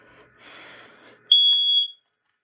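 A First Alert SA68 smoke alarm gives a single loud, high-pitched electronic test beep, ringing steadily for about half a second after faint background noise, then cutting off into silence.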